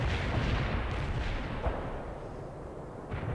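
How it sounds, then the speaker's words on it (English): Napalm strike explosions in the World in Conflict video game, a sustained roaring, crackling rumble of fire and blasts, dense and continuous, with no talk over it. "Targeting napalm strike on the coordinates"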